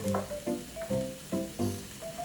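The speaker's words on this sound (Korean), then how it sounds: "이거 잘 볶아줍니다" Cabbage and a seafood mix are stir-fried for a jjamppong-style kalguksu with quiet sizzling. A utensil strikes the pan in a rhythmic run of short metallic clanks about every half second.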